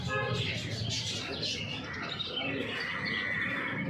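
A bird calls with a few repeated cooing chirps at a busy outdoor market where animals such as chickens, rabbits and rats are sold, over constant crowd murmur and background noise.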